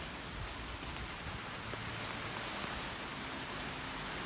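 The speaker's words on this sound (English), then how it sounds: "it runs, it drives, and it's raining." Rain falls steadily in Hawaii, a faint, even hiss of drops on surfaces that continues without a break, with no voices.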